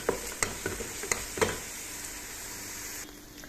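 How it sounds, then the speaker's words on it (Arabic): A cinnamon stick stirs onion frying in fat for an okra stew, with a few soft scraping knocks over the first second and a half, then a steady low sizzle alone. "مع البصله وهحرك فيها"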